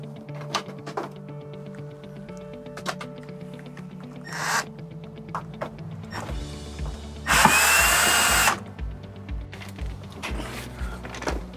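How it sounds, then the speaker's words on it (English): A power drill backs out screws holding a Coleman-Mach RV air conditioner assembly, with a short whir followed by a longer, louder burst of drilling among clicks and handling noises. "What we'll do is we'll take these 4 screws down here."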